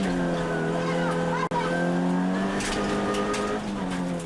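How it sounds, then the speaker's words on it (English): A rally car spins on a dusty tarmac stage, its engine revving in tonal harmonics with a brief tire squeal and a sharp break in the sound, heard under commentary. "And when the very first car spins, then you know it's going to get exciting."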